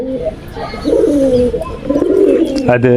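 Giribaj pigeons cooing close by in a home loft, several overlapping throaty coos rising and falling in a steady murmuring stream with soft chirps mixed in.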